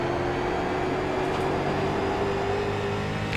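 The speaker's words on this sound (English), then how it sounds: "You can hear him get on the gas." A sim racing car engine accelerates in a racing game, a loud, steady droning whine that rises slightly in pitch as the throttle opens.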